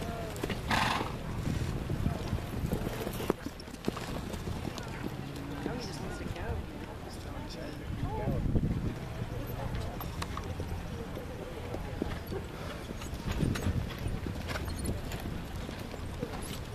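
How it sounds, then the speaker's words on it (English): Hoofbeats of several horses cantering on soft footing in a horse show flat class arena, rhythmic and continuous, with an occasional whinny and people talking in the background. "show your horse at the canter."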